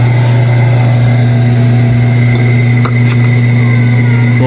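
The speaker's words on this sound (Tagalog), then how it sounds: "mabilis ang ikot ng kanyang motor. Pero itong belt hindi nadadala." An automatic washing machine motor hums in a loud, steady, close drone, spinning fast while its slipping belt fails to turn the basket, with a faint scrape partway through.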